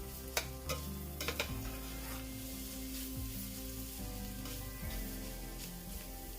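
Rosemary and pasta sauce being stirred in a pan for Bolognese, a steady sizzle with a few spoon scrapes and clinks near the start, close and continuous.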